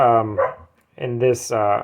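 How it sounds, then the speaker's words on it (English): A dog indoors gives a few loud barks close by, broken by a short gap. "Really trying to get the dog to stop."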